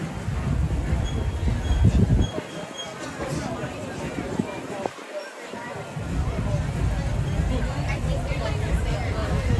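The Disneyland Railroad train rolls along with continuous rumbling and clacking wheels and a faint squeal, under a crowd's murmuring voices.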